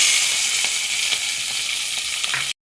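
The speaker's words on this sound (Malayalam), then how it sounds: "പച്ചമുളകും സവാളയും നന്നായി വഴറ്റി കിട്ടിയിട്ടുണ്ട്" Sliced onions and green chillies sauté in hot oil with mustard seeds, a steady bright sizzle close up that runs unbroken before cutting off abruptly.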